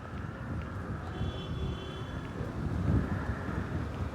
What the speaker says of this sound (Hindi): हसीन हवा चल रही है।